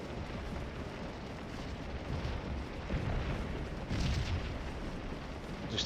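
Cannon shot and canister fire in the Scourge of War battle game, heard as a dense, continuous rumble of distant artillery booms and crackling volleys, with slightly louder bursts swelling near the middle and end.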